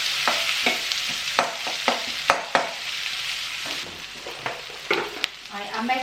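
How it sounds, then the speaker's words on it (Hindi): Sliced onions fry in a pan with a steady close sizzle, broken by frequent scraping stirs of a spoon against the pan. "तो प्याज को ना मैं फ्राई करते करते थोड़ी थोड़ी खोल लूँगी।"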